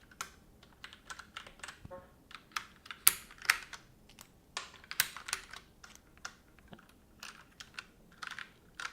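Keycaps being pushed back onto the switches of a HyperX Alloy FPS mechanical gaming keyboard produce a steady run of close, crisp plastic clicks and snaps in an irregular typing-like rhythm.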